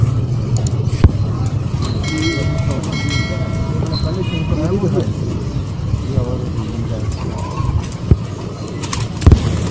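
Pigeons kept for sale coo softly in low, wavering phrases while nearby birds chirp. Someone talks over the sounds and a few sharp knocks occur.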